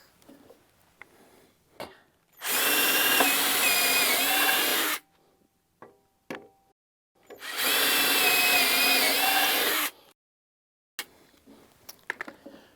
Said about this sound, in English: there are holes already pre-drilled in the bracket, which is used as a template for you to drill your holes through